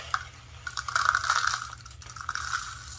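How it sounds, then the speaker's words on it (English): Small rocks tumble into a cup for a resin pour, giving a soft, scattered clatter and rattle at low volume that continues for about three seconds with no talking. "I'm just going to put the rocks right in this cup"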